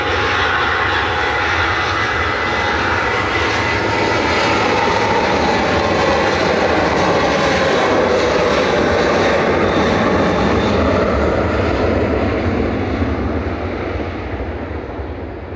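Airliner departing Manchester Airport for Palma, a loud sustained jet engine roar with deep rumble, steady throughout and fading slightly at the end, with no talking.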